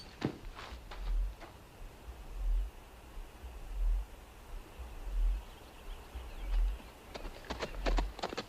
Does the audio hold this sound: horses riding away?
yes